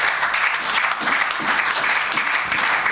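Church congregation applauding together, a dense steady clapping that fills the room at even loudness for a few seconds, with no clear voices standing out.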